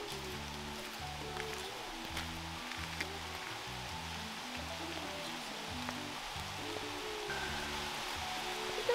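Steady rain falls outdoors during birdwatching, giving a soft, even hiss of drops all the way through. Underneath it, a low repeating tonal pattern keeps sounding.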